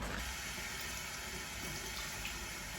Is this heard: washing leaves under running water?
yes